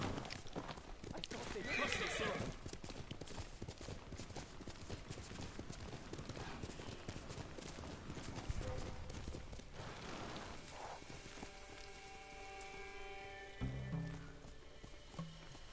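A horse's hooves clip-clop steadily through a noisy, busy backdrop, with a short whinny rising near the end.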